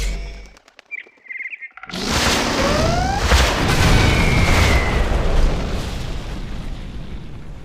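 A jet breaking the sound barrier in Command & Conquer Generals Zero Hour, a sudden loud boom after a near-silent opening with a few chirping unit sounds, then a long roaring rumble that holds and slowly fades.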